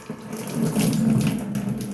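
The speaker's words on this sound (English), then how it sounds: "Rinse my hands off" Tap water runs from a faucet as hands are rinsed under it, a close, steady splashing rush lasting a couple of seconds.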